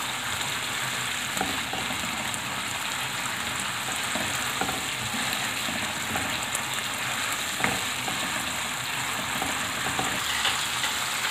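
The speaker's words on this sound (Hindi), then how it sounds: "और मसाले को बस 1 आध मिनट भून लेते हैं हम।" Masala spices sizzling in a pan after the water has cooked off, a continuous close frying hiss with soft scraping of stirring throughout.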